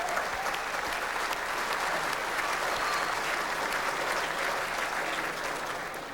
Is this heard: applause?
yes